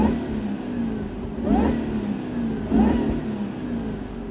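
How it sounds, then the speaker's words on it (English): A Jaguar XKR convertible's supercharged engine revs twice in sharp bursts, each rise carrying a loud supercharger whine that climbs with the revs before dropping back to idle. "that's a really loud supercharger whine."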